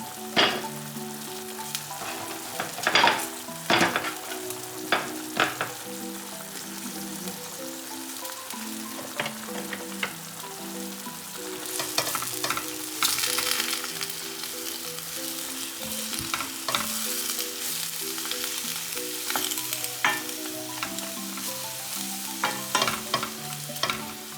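Cabbage and other vegetables sizzle and crackle steadily in a hot pan for vegetable noodles, with occasional stirring scrapes and clatters; no one speaks.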